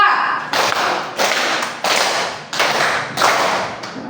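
Rhythmic group clapping in a counting clap game with schoolchildren, six loud unison claps spaced evenly about two-thirds of a second apart, sharp and close.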